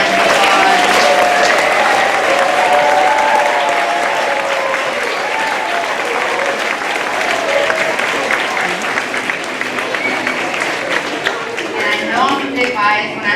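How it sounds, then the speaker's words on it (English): Sustained audience applause following a school strings concert, loud and dense clapping that continues steadily throughout with a hint of crowd murmur underneath. "another round of applause"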